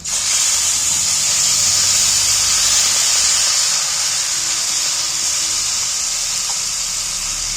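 Tomato and potato boiling liquid poured into a hot frying pan, giving a loud, steady, hissing sizzle that holds for several seconds and eases slightly toward the end.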